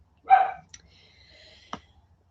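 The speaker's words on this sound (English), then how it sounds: "So should I go force the dogs outside so they're not noisy?" Dogs barking indoors at a homestead: one loud bark up close, then a sharper, shorter bark about a second later, with a faint high whine and quiet room noise in between.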